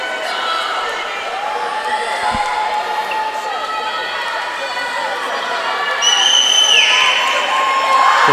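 Swim teams line the edge of an indoor pool deck at a high school senior night meet, cheering their teammates in a sustained, echoing crowd din with shrill shouts and whistles rising near the end.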